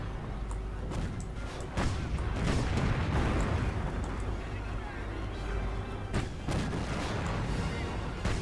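Artillery guns fire in the Company of Heroes World War II game, deep booms and rumbling blasts rolling out at intervals beneath steady battle noise, with someone talking over the action.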